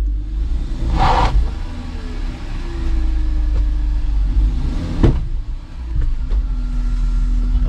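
A BMW 325ti engine rumbles steadily from inside the car on a test drive, low and continuous, with a couple of brief knocks and clunks along the way.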